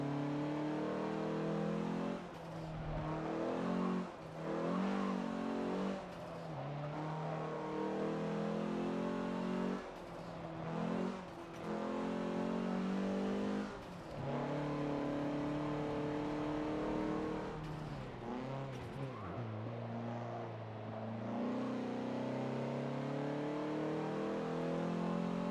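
A front-wheel-drive Dodge Omni revs loud and continuously as its wheels spin in Forza Motorsport 7. The engine note rises and falls in repeated sweeps, with a few brief dips between bursts of throttle.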